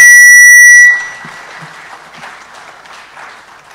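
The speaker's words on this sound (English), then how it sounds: "Let's give His Excellency a very warm clap for launching." An audience claps for the launch of a building at a regional address, following a loud steady electronic alarm-like tone that cuts off after about a second; scattered, fairly sparse clapping then continues at moderate level.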